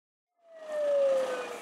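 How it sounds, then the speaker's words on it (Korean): A fire engine siren starts up and rises into a loud, steady wail as the truck heads out, sounding alone with no talk over it. "사이렌을 켠 소방차가 출동합니다"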